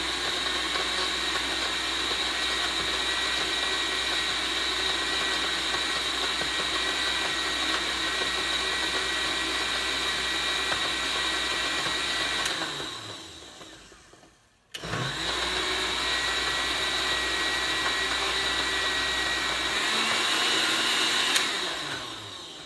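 A blender runs continuously, mixing gin, lemon juice and egg whites with a loud, steady whir. It briefly cuts out and winds down, then starts again at full speed.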